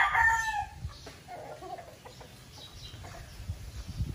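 Roosters crowing in a backyard where native chickens are kept, with a loud crow at the start and clucking and other fowl sounds continuing close by throughout.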